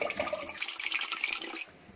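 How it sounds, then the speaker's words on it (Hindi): Water pours into a cooking pot for an Indian-style chicken stock, a close, steady splashing gush lasting under two seconds before tapering off. "इसमें 1 लीटर पानी डालेंगे।"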